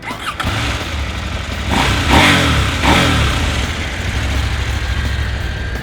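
A 2020 KTM 790 Adventure motorcycle engine close by, loud and steady, swelling briefly as it revs before settling back to a constant drone.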